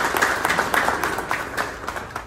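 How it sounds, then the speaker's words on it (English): Clapping from a gathered crowd at a company anniversary celebration, a moderately dense patter that holds steady and fades a little toward the end. "So I think that deserves a huge round of applause,"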